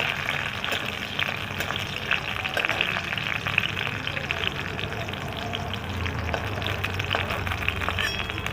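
Garlic sizzles and fries steadily in a pan for red sauce pasta, a continuous crackling hiss with small pops, close and moderately loud.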